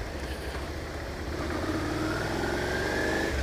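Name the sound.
Suzuki SV650 V-twin motorcycle pulling away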